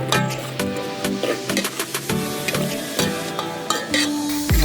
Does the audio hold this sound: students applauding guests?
no